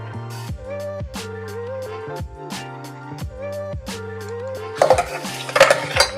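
Cooked raw-cashew chicken curry is scooped out of a pan. Metal scrapes and clinks cluster near the end over steady background music, with no voices.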